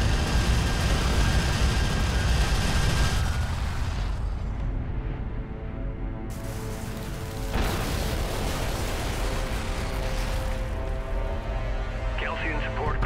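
A Galcian support cruiser blows up in the real-time strategy game Homeworld: Deserts of Kharak, a dense, roaring blast of rumble and crackle that fills the whole stretch and swells again partway through, loud and continuous.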